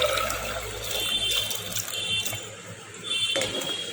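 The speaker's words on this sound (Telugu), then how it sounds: "ఇది మునిగేంత వరకు వాటర్ వేయాలి" Water pours steadily into a pressure cooker pot of rajma, a continuous splashing gush that swells and eases, close by with no talking.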